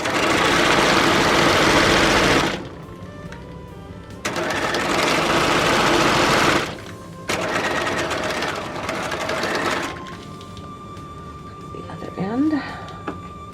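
A sewing machine stitches a T-shirt in long, loud runs of steady whirring with brief stops between, close by, with a voice heard faintly near the end.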